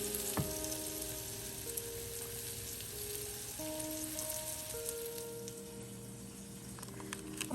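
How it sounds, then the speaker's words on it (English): Flour-dredged chicken fries in a pan over medium heat, giving a steady close sizzle with faint crackles, alongside soft tonal background sounds and no voices. "simply place it in your pan. And I'll be cooking this on medium heat"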